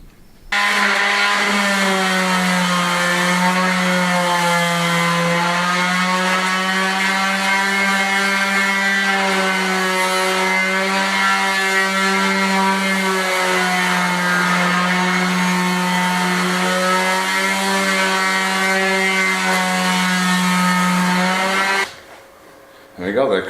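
A power sander works over wooden lengths for a garden bench, a loud, steady motor whine held at an even pitch for about twenty seconds before it winds down and stops.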